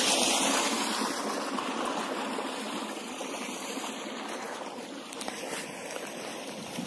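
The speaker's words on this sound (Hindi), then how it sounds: "तो ये देखिए यहाँ पर निकल रहा है पानी" Continuous loud rush of water gushing out of a 5-inch farm irrigation pipeline nearby, a steady broadband roar with no talking.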